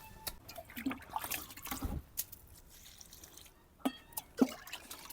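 Liquid is poured onto loosened soil around tomato plants in a garden, producing faint, scattered splashes and drips with quiet pauses between them.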